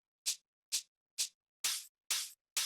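Shaker sample playing alone in an acid techno beat, six crisp bright shakes in a steady rhythm, the first three short and tight, the last three longer and fuller, no voices.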